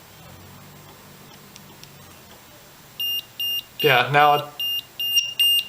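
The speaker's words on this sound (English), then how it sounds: "it's starting to beep, flashing that cell." A battery voltage checker beeps repeatedly in short, evenly spaced high-pitched pulses, close by, flagging a low cell, with a brief voice speaking over the middle beeps.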